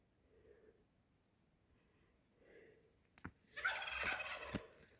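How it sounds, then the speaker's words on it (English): Wild hen turkeys calling outdoors on a snow-damaged oak homestead: a few faint, distant yelps early on, then a louder burst of gobbling and chatter near the end. "the hen turkeys are calling in the wild turkeys."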